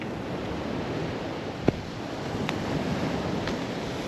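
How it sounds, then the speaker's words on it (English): Surf and wind on an Australian beach at Cape Arnhem, where the sand is littered with rubbish: a steady broad wash of waves with gusty wind noise on the microphone and a few faint knocks, with no talk. "Guys, this is an Australian beach."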